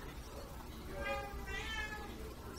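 A house cat meows several times in a quiet room, its rising calls clear and close, with faint background noise between them.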